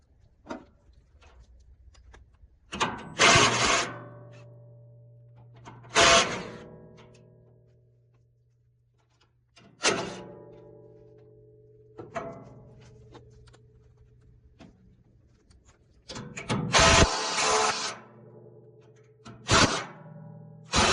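Bolts being worked loose to free the roll bar on a cheap Chinese mini excavator: a series of sharp metallic ticks and thunks, several spaced bursts with some ringing, close and loud, with no talk.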